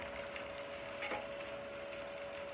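Sausages and big, roughly chopped onions fry in a pan on an Aga cooker, giving a soft, steady sizzle with no voices.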